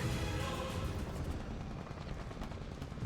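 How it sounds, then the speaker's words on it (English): Dense, continuous rumbling bursts of gunfire in the video game Punishing: Gray Raven, with a constant wash of noise, steady and loud throughout. "The sounds of gunfire and human calls fill the air"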